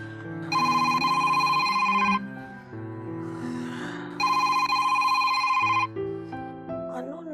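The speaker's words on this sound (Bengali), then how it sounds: "রাত্রে কে ফোন করছে?" A telephone rings in a Bengali TV serial scene at night, two loud repeated electronic ring bursts separated by a pause, with background music underneath.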